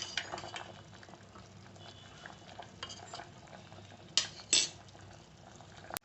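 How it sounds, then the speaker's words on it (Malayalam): A spoon stirs ash gourd halwa in a pan as the sugar syrup thickens. The quiet scraping and bubbling runs throughout, broken by two sharper clinks near the end. "ഇത് നല്ലതുപോലെ കുറുകുന്നത് വരെ ഇങ്ങനെ ഇളക്കിക്കൊണ്ടിരിക്കണം."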